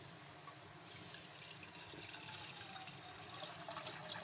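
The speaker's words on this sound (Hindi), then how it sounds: "ये 2 कप हमने इसमें पानी डाल दिया।" Two cups of water poured into a cooking pan for Maggi noodle soup in a home kitchen, a steady continuous splashing stream at close range with no talking.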